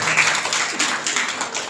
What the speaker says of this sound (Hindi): ओमवीर 20 आदमी ताली बजाओ।